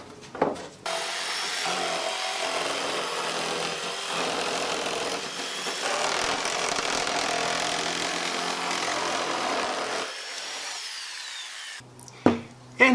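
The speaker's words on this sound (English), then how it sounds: "I'm going to cut that out with the jigsaw." A jigsaw cuts a rough circle out of plywood, buzzing and rasping steadily for about ten seconds up close, then stopping, with a couple of sharp knocks of handling at the end.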